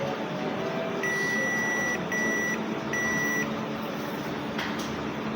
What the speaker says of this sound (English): My meter is set to continuity. So when I put it together, it should beep.